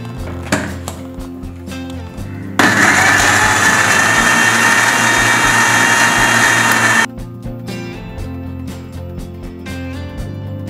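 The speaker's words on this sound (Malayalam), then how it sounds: "ഇനി നമുക്കിതൊന്ന് നല്ലോണക്ക് മിക്സിയിലിട്ട് അടിച്ചെടുക്കാം." An electric mixer blends a cashew shake of cashews, milk and ice cream, a loud, steady whirring that starts abruptly, runs for about four seconds and cuts off, with quieter music playing before and after.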